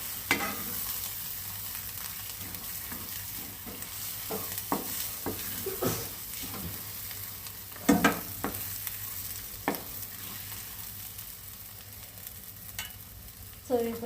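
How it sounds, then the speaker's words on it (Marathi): Prawns fry in masala with a continuous sizzle, and a spoon stirs and taps the pan in irregular bursts. The sound is close and fairly quiet, with no talking. "कोळंबी चांगली मसाल्यामध्ये फ्राय करू."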